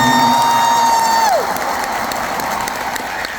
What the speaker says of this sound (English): Big round of applause for Riley,